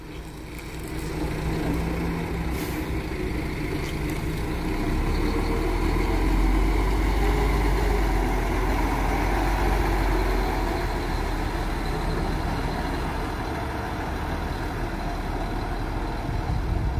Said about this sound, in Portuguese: Aí o G8 da Expresso Transporte dando saída então aqui da rodoviária de Jundiaí.